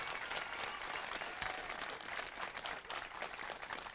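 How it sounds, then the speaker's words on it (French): An audience at a televised local event claps steadily for the mayor, a dense, continuous round of applause sustained throughout at even strength. "On l'applaudit bien fort s'il vous plaît."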